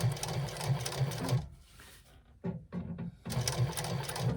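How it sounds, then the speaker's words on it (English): A sewing machine stitches vinyl edges along a lining in close, loud bursts of rapid rhythmic whirring, pausing for about a second midway before running again, with no talking. "we're going to sew level with that lining but not through it"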